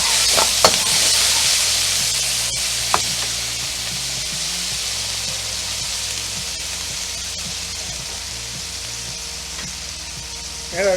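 Garlic hits hot oil in a pan for an orange chicken dish, a bright continuous sizzle that stays loud and even, with a couple of faint knocks and no speech.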